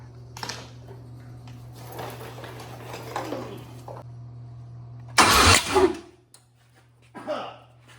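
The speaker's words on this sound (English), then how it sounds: "Where did that backfire from? The intake." A Ford engine cranks under a steady hum, then a sharp loud pop as it backfires through the intake, followed by a brief quiet and another short burst of cranking.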